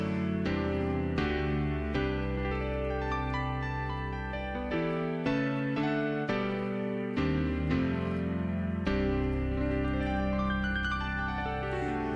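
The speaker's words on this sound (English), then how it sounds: "Now let's slap that Dimension D on there." An electric guitar runs through a Dimension D chorus effect, set to buttons 2 and 4. It plays a sequence of rich, shimmering chords, each struck and left to ring for about a second, with no talking.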